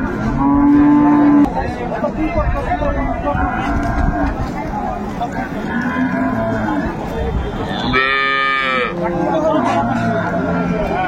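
A cow moos loudly with a long harmonic call near the end, while people talk throughout and an earlier lower lowing sound is heard, at a cattle market in Dinajpur where dairy cows with calves are sold.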